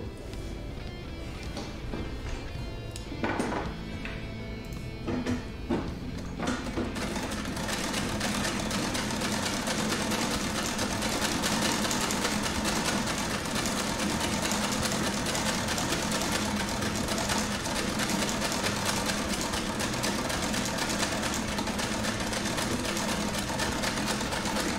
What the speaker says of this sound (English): older sewing machine is a vibrating shuttle sewing machine, and that means it can do